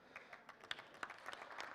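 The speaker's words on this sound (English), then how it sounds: "everyone who wants to learn about local variables, clap now" Sparse, faint clapping from a small audience at a SQL Server performance talk, a handful of scattered claps over a couple of seconds with no voices on top.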